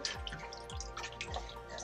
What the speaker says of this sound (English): Just water dripping out.